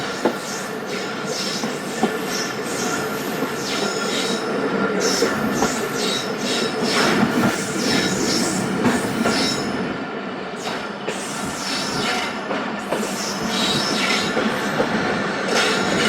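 The Tezgam Express rolls into Bahawalpur railway station with continuous wheel clatter and rail squeal, loud and close, the carriages rumbling steadily throughout with no voices.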